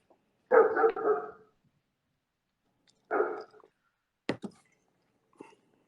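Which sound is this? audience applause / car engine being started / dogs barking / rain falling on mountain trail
dogs barking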